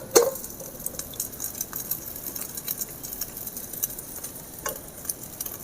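Dal kulcha sizzles and crackles as it is flipped and cooked in a pan with water instead of oil, a steady soft frying hiss with small scattered ticks close by and no voices.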